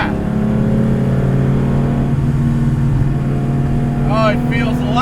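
A 350 hp resto-mod 1979 Porsche 911 engine holds a loud, steady high-rpm drone from inside the car, with a voice speaking briefly near the end.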